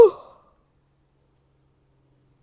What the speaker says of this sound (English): Don't know why I'm yawning so hard.